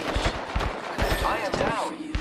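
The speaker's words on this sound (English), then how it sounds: "The enemies are shooting at me." Gunfire during an Apex Legends match, rapid cracking shots in quick bursts, near and loud, mixed with other game sounds and an in-game voice talking over the fight.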